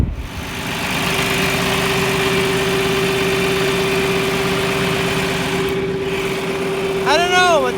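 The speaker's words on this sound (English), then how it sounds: "That pump is making a noise." An engine runs at a steady idle with a constant whining tone from a noisy pump riding over the low rumble, continuous and close, with a short warbling sound near the end.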